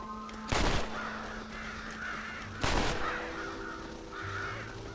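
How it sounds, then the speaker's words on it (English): Crows around a corn silo in the Red Dead Redemption video game give harsh, raspy caws that repeat several times in quick bursts. Two loud bursts of noise cut across them, with background game ambience underneath. "Scare the crows out of the silo."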